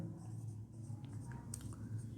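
A teacher writing on a classroom board, heard as light scratchy strokes and taps over a low steady room hum, faint and close, with no one speaking.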